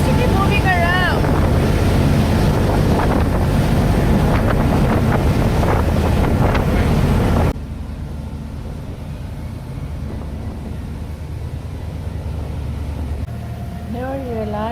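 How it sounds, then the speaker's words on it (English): Choppy water and gusting wind buffet a tour boat in Kenai Fjords, Alaska, a loud continuous rushing roar that drops to a softer wash halfway, with people talking over it. "Water is really choppy today."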